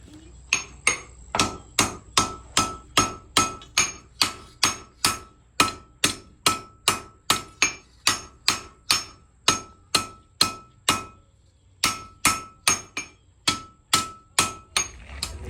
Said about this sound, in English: Did a little forge weld there as a demonstration